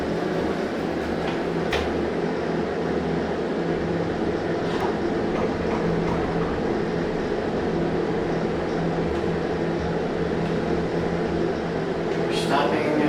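A vintage US hydraulic elevator motor at Steward Observatory, University of Arizona, running with a steady low hum and drone, with faint clicks and mechanical rattles over it and occasional voices nearby.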